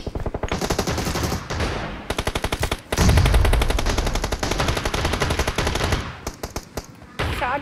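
PUBG gunfire in loud rapid automatic bursts, with dense machine-gun rattles broken by brief pauses and then resuming, close and dominant.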